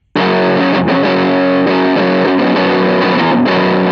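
Heavily distorted electric guitar chords through an amp simulator ring out loud and sustained, struck a few times in a chunky, saturated tone.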